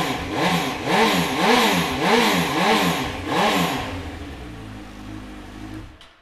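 A 2015 Honda CB1000R ABS Extreme motorcycle engine fires and is revved hard in a string of about five rising and falling bursts, then drops back to a throbbing idle before cutting off, loud and close.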